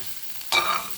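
Tempering spices hit hot oil in a pan with a sudden sharp sizzle that bursts up after a quiet moment and then hisses steadily, close and alone.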